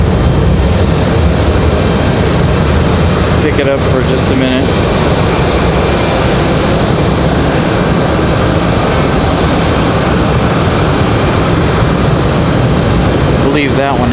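A Delta Airbus A320 jet departing Raleigh-Durham airport, its engine roar loud, broad and continuous from start to finish, with someone speaking briefly over it.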